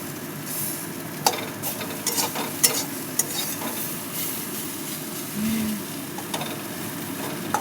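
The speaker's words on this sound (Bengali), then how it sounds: "এবার নেড়ে নাড়িয়ে দেবো।" Food stirred in a frying pan on a gas stove, a steady sizzle running throughout with irregular scraping knocks of the utensil against the pan, close and moderately loud.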